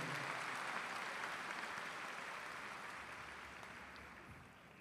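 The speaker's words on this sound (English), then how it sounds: "Please, let's give our seniors a round of applause and thank them for all of their hard work." An audience applauds steadily at a high school graduation ceremony, a dense wash of clapping that slowly fades over several seconds, with no talking.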